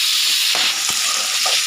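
Tomato added to onion, green chili and curry leaves frying in a pan for Madurai-style chicken gravy. A steady loud sizzle and hiss, with a brief sputter as the tomato goes in, and no voice.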